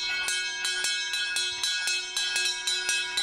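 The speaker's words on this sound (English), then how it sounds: "And you got the bell here." Bell on an old fire truck in Orange, California, struck in a steady, clanging rhythm of about a dozen bright, ringing strokes, close and clear with no talk.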